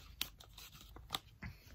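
Scissors cut through cardboard for a homemade M4 handguard, producing a few faint, close snips and crunches separated by brief pauses.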